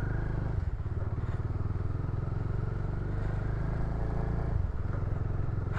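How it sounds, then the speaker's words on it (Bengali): A motorcycle rides on a road with a steady low engine drone and rumbling wind noise, close and continuous, with no clear speech. "বাবা একদম টান নেই বাইকের,"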